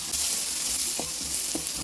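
Steady hiss and sizzle of chopped onions sautéing in hot oil, close up, with a couple of faint stirring clicks.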